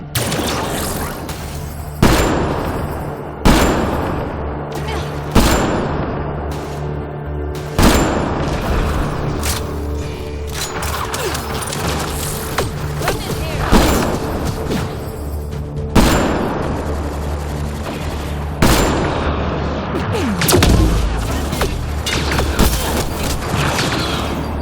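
Gunfire from the video game Mass Effect Andromeda crackles in loud bursts and fusillades, sharp shots mixed with booming impacts that repeat irregularly over a dense, rumbling battle backdrop.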